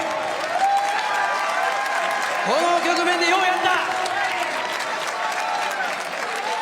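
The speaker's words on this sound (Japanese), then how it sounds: "みんな大声援で拍手してあげてください。" A boxing crowd applauds and cheers for John Riel Casimero after his 124-pound bout with Luis Nery, a dense, steady roar of clapping throughout while an announcer talks over it.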